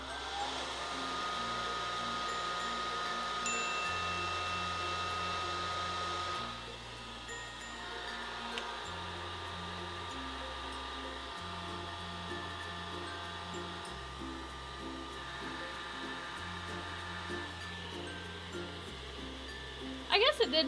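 A Hair Flair soft hood bonnet dryer runs with a steady, loud motor whir and airflow hiss; the tone shifts slightly about a third of the way in, and people talk over it throughout.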